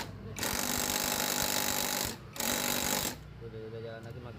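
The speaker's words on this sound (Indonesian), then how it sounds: "Pertama kita pakai impact kecil aja dulu biar kerasa." Small impact wrench tightening bolts while servicing a burnt stator coil on a Honda PCX scooter, two loud buzzing rattling bursts of roughly two seconds and one second separated by a short pause, followed by quieter background sound.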